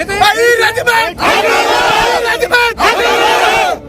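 Large protest march of a huge crowd, with many voices shouting and chanting together in loud bursts, close and energetic, with gaps between the rising calls.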